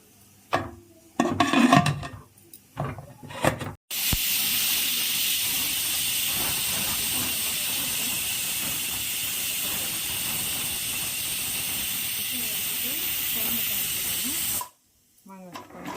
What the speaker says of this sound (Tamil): இப்போ குக்கரை மூடி ஒரு 5 விசில் வைக்க போகிறோம்.